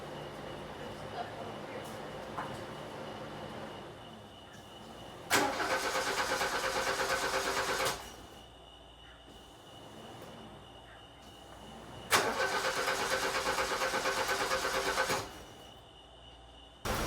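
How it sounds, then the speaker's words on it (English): A VW Fox with fuel-injection trouble and suspected fuel starvation cranks and struggles to run in two loud bursts of about three seconds each, separated by a quieter rough hum, close up. "It really doesn't want to rev. It wants to die if I try to rev it."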